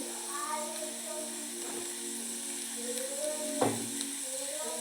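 A steady, moderate sizzle rises from a pan as ingredients for tender mango pickle fry, continuous throughout, with a voice talking over it and a brief stirring clatter near the end.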